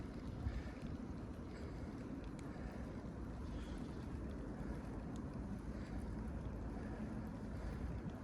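Strong rush of water being released along a riverbank where pike are fished, a dense, steady roar filling the whole span without pauses, close and loud with wind buffeting the microphone.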